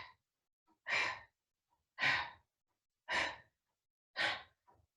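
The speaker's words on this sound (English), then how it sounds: "Just finding this rotation, forceful exhale. Drawing the belly in a little bit on each exhale." Four forceful, evenly spaced exhales through the nose during a yoga breathing exercise, about one per second, close and clear with silence in between and no talking.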